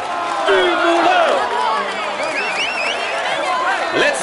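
Spectators cheer and clap along a Tour de France 2017 stage route in the PS4 game as the yellow jersey rider passes, a steady broad crowd roar with shouts and whistles throughout, under a commentator's voice.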